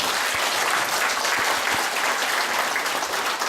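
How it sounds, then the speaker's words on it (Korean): Sustained applause from an audience at the founding anniversary general meeting of a veterans' association, loud, dense and even for the whole stretch, with no one speaking over it. "박기도 회장님 저 큰 큰 박수로 경기 박수 좀 부탁드립니다"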